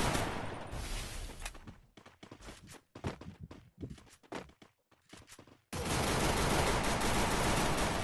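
Gunfire in the mobile shooter game Free Fire: dense, loud bursts of rapid shots, with short gaps between volleys in the middle and a sustained barrage at the end.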